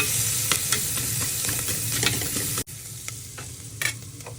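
Green chillies and onions frying in oil for a curry: continuous loud sizzling with stirring scrapes and clinks from a utensil, close up, a brief cut midway, then softer sizzling continues.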